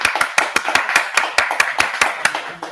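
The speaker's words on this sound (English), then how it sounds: "Give him a huge round of applause, guys." A small studio audience claps for a guest on a motoring talk show, a fairly close, steady run of distinct individual claps at a brisk even rhythm for a few seconds.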